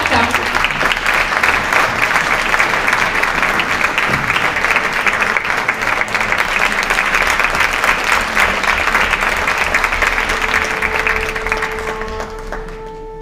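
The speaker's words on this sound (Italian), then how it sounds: "Lo accogliamo con un caloroso applauso qui alla classe dei talenti" Warm theatre audience applause for a guitarist at a talent concert, dense sustained clapping filling the hall for about twelve seconds before tapering off at the end.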